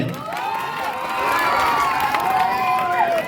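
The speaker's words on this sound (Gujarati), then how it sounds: "જોરદાર તાળી થઈ જાય ગેટ માટે" A lively crowd at an entrance event in Barwala claps and cheers, with shouts and voices overlapping into a steady roar that holds loud throughout the brief stretch.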